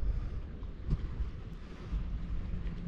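Wind buffets a microphone aboard a sailboat lying at anchor in an 8 to 10 knot breeze, a steady low rumble with soft gusts and faint water sounds.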